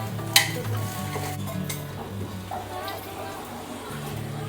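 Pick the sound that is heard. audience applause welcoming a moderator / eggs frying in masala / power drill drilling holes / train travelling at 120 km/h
eggs frying in masala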